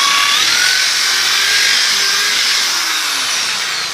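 A drill bores a hole while an orchid is being potted, a steady high whine running for several seconds with no talk over it.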